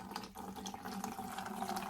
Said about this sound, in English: I'm going to start pouring it in right here.